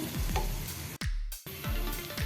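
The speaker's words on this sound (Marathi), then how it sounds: "एक टेबलस्पून आपण आलं लसूण पेस्ट घातलेली आहे ती पण थोडीशी परतून घेऊया" Chopped onion and ginger-garlic paste sizzle steadily in a hot pan while being stirred, with a brief gap partway through and several scraping strokes of the spoon, close and continuous with no talk.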